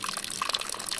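Spring water flowing from a black pipe in the mossy forest on Mt. Pulag, a close, continuous splashing trickle over a short stretch.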